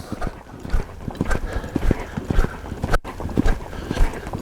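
Horse cantering through a flying lead change, hooves drumming in a quick, uneven three-beat rhythm, loud and close, with occasional snorts and no talk.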